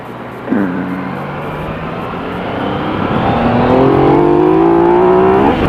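Yamaha XSR900 motorcycle on a test ride, its engine revving up under a jerky throttle in A mode, a loud rising whine that climbs steadily as the bike accelerates hard, with wind noise throughout.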